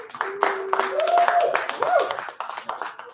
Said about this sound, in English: Give yourself a round of applause right now.